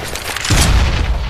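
A grenade detonating in Counter-Strike: Global Offensive, a loud, close, rumbling boom that swells halfway through and keeps roaring to the end over a noisy wash of game sound, with no talk.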